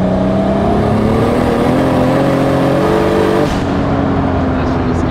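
A 1000hp Toyota Supra engine at full throttle in fourth gear, a loud sustained roar climbing steadily in pitch before a brief drop near the end, heard from inside the car with a voice over it.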